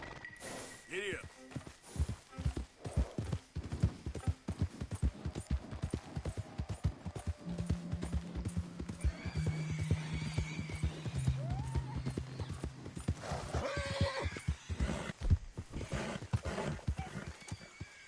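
A horse in Red Dead Redemption 2 video game gallops with rapid, loud hoofbeats and lets out a neigh, with game ambience behind it and a short voice line over the galloping.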